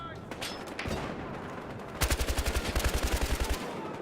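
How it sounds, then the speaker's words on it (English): Rapid automatic gunfire in the video game Battlefield Hardline, played as a team deathmatch on the Hollywood Heights map, rattles out in a loud close burst of about a dozen shots after a stretch of quieter game ambience with softer distant pops. "Oh, that was not shooting by me."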